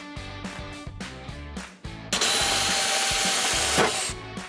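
Power drill boring bolt holes while recessed D rings are being installed, with a few short stop-start bursts first and then a long, loud continuous grinding run that swells near the end.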